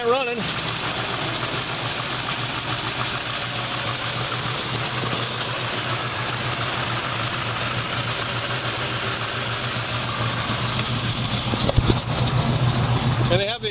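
A 1969 Chevrolet Camaro V8 with a performance cam idles steadily and loud up close, a low, even rumble through a full-length exhaust with a slight lope, while someone talks over it and a brief knock sounds near the end.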